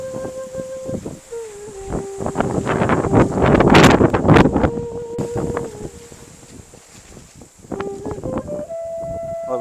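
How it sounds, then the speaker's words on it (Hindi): A strong dust storm whips across the Braj region near Barsana, with loud, gusty wind buffeting the microphone. Tonal sounds run through it and surge in the middle, then ease back. "कितनी तेज हवाएं चल रही हैं, धूल भी साथ में उड़ रही है, और खूब तेज आंधी ब्रजमंडल में इस समय चल रही है।"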